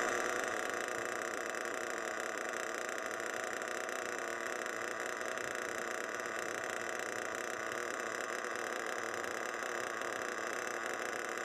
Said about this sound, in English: prime and start the engine